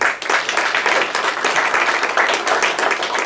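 Loud, dense audience applause at a dental implantology conference, many hands clapping continuously and close for about three seconds.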